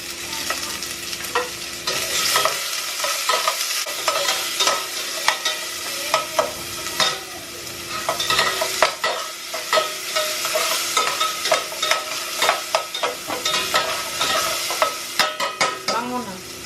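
Garlic and ginger sautéing in a pan, a close, continuous sizzle broken by repeated scraping and stirring strokes, no talk over it.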